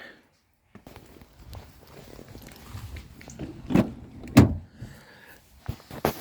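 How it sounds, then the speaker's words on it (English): In a Suzuki Swace car, an Isofix child seat mount is unclipped and pulled free, giving scraping, rustling handling noise and two sharp latch clunks, with someone talking quietly nearby. "I'll show you how easy it is to get the Isofix off, actually."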